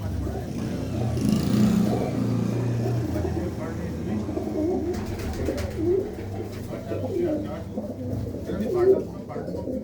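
Soft, low cooing of pigeons repeats close by, mixed with people talking and a vehicle engine humming in the background.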